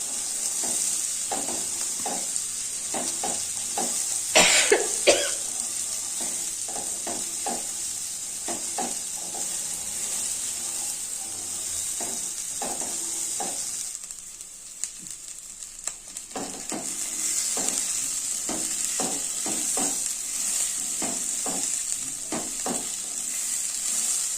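Cauliflower frying in oil in a pan, a steady close sizzle with intermittent stirring scrapes and clicks throughout, no talking.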